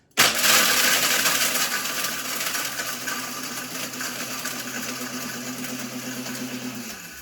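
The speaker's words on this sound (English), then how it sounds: "it's your food going in the blender" A loud blender roars steadily, grinding hard dry dog kibble that rattles against the jar, running for several seconds before cutting off abruptly.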